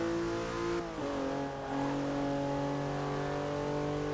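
A 2014 Porsche 911 Turbo S engine in Forza Motorsport 6, with an all-wheel-drive car on a race track; a sustained, steady engine drone with a brief shift in pitch around one second, heard alone and fairly close.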